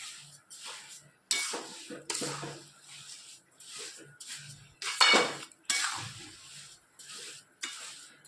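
A spoon scraping and clinking against a pan while sugar is stirred for bhakarwadi sabji, in irregular strokes with short pauses between, close and fairly quiet.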